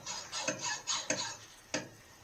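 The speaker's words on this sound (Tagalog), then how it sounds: "May naglalagari. Ang laki ng lagari guys." Rasping back-and-forth strokes of a large hand saw, heard as several rhythmic broadband bursts of moderate loudness with short gaps, at a historic fortress in France.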